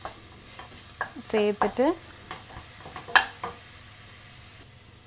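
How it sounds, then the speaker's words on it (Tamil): Sliced onions with ginger garlic paste sauté in a pan for mutton chukka, a low sizzle under clattering spoon stirs, with someone speaking briefly over the cooking. "வெங்காயம் நல்லா வதங்கிடுச்சு. இஞ்சி பூண்டு பேஸ்ட் சேர்த்துக்கலாம்."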